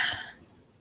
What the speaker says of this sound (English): Sorry if I clear my throat a lot because my allergies